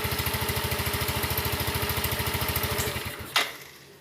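A motorcycle engine, just back together after a CVT service, idles with an even rapid putter for about three seconds, then cuts out, followed by a single sharp click and quiet.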